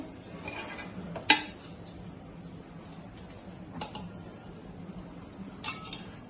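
A spoon scoops red-chili chicken biryani rice out of a cooking pot, giving a few faint metallic clinks and scrapes, one sharper knock near the start, with no talking.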